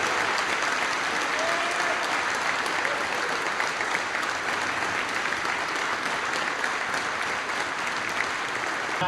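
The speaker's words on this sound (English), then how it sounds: "Please join us with your applause to show your support of number 44, Caden Brush." Gym crowd at a high school boys basketball game applauding, a dense, sustained roar of clapping filling the whole stretch, loud and even with no pauses.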